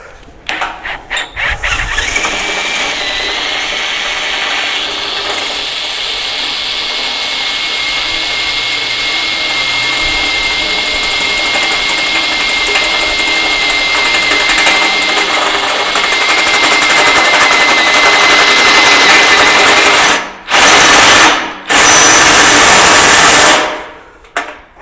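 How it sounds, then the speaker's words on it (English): A Shopsmith woodworking machine drills holes with a loud, steady whine that runs continuously for about twenty seconds, then cuts out, restarts briefly and stops near the end; no talking. "I'm going to attempt to drill these holes."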